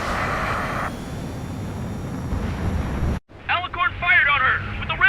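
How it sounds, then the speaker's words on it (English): In Ace Combat 7: Skies Unknown, enemy aircraft roar in a loud, windy jet rush that drops away sharply, after which a voice speaks over a low background. "It's their aircraft."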